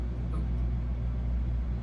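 Cabin noise inside a moving car: a low, steady road and engine hum, faint and even, with no voices.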